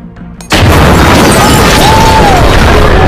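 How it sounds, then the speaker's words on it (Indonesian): A car rigged with a bomb blows up a house in a film: after a brief quiet moment a sudden loud explosion erupts and its roar sustains with debris and rumbling, masking faint background voices. "Ternyata mobil yang dia kendarai telah dipasang bom untuk meledakkan sebuah rumah"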